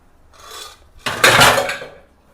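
Dishes, pots and pans clatter and scrape as they are gathered for washing in a home kitchen: a soft rattle followed by a louder, longer burst of metal and ceramic clanking, close and alone.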